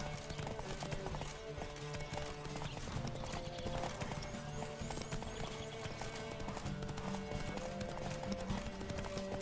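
Horse hooves galloping in the video game The Witcher 3, a steady rapid clip-clop running throughout with a faint whinny and game background sound, no talk.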